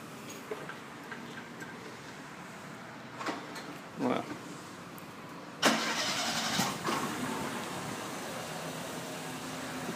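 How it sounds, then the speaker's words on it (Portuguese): A car engine catches after a few short cranking attempts, then keeps running and revving steadily, loud and close, with someone talking over it. "Eu vou segurar o giro aqui ó para mostrar que o carro não apagou"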